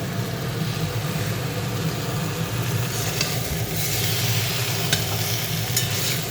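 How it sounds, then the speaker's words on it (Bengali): Oil with whole spices, salt and turmeric frying in a pan for a mango pickle, a steady close sizzle with soft scraping stirs underneath and a few brighter clicks later on. "এখন তো ফোড়ন, তেল, নুন, হলুদ দিয়ে আমি একটুখানি কষে নিচ্ছি।"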